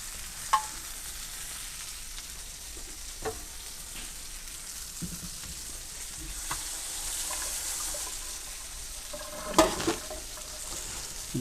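Chicken cutlets for chicken piccata sauté in a pan, a steady soft sizzle running throughout with occasional clinks and scrapes of a utensil, close and moderately quiet, no talking.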